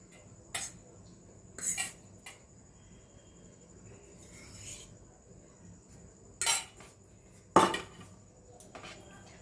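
Fish fingers are dipped in batter, breadcrumbs and cornflour, with a handful of sharp metallic clinks and taps of utensils against dishes, scattered apart over a quiet kitchen background.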